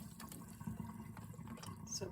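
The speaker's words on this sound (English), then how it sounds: "I'm just running the water through it" Water runs through a clogged item to flush it out, a soft steady splashing and trickle heard close up and fairly quiet, with no talk.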